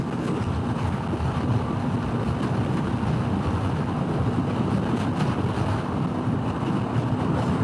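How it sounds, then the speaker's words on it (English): Heavy wind buffeting the microphone, a constant loud low roar and rumble with no let-up and no voices. "God, it is windy today."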